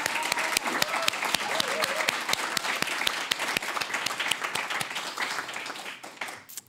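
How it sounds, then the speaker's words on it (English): A live audience at a queer, intersectional talk breaks into sustained applause, dense steady clapping from many hands that carries for several seconds before thinning out near the end. "Another round of applause."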